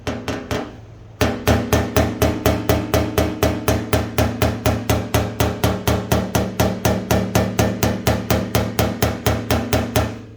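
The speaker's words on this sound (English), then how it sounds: "So what I'm gonna do is just take my body hammer" A body hammer taps dented car body metal from rear-end collision damage rapidly and evenly, dozens of crisp ringing strikes in a steady rhythm, close and loud, after one brief pause.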